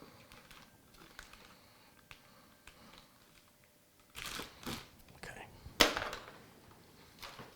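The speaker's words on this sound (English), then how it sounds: "Get some scissors out. We'll cut this tape here." Scissors slicing through packing tape on a new motherboard box, quick crisp cuts and rustles near the end after a quiet stretch of faint handling noise.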